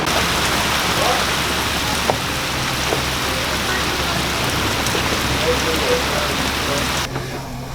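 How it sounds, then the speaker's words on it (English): Rain falls steadily on a boat's deck, a dense even patter with scattered louder drops. A faint low hum runs beneath, and the rain stops abruptly near the end. "We did get a bit of rain, but no hailstones"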